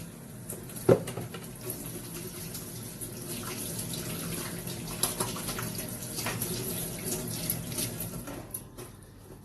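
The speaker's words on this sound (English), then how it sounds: "Wash my hands again." Running water from a kitchen tap pours steadily over hands being washed at a sink, a continuous close splashing wash with small surges and no talk.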